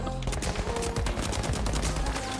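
Rapid automatic gunfire from a Helldivers 2 match bursts continuously, loud and dense, with dozens of overlapping shots packed into a couple of seconds.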